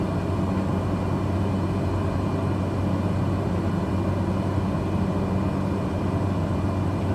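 Cessna 208 Caravan turboprop engine idling in Microsoft Flight Simulator, a steady low droning hum with a constant broadband whine, continuous and even throughout.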